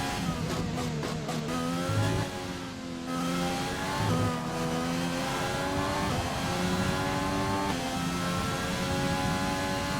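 An F1 race car engine in the racing game F1 2020 at the Italian Grand Prix, racing on lap one, screams steadily at high revs with shifting pitch through gear changes, loud and continuous throughout.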